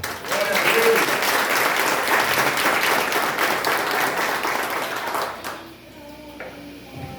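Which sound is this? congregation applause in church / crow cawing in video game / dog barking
congregation applause in church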